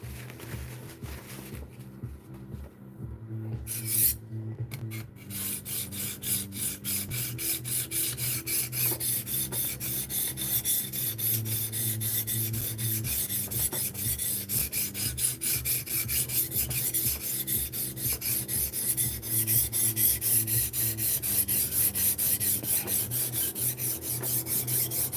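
Steady gritty rasp of a knife blade being stroked across TSPROF Kadet sharpening stones, continuous rhythmic rubbing strokes close up for the whole stretch, with a brief pause near the start.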